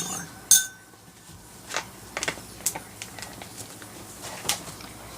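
Bath salts stirred in a bowl with a utensil, giving scattered light clinks and gritty scraping ticks at an irregular pace over a steady background hiss, close up and moderately loud.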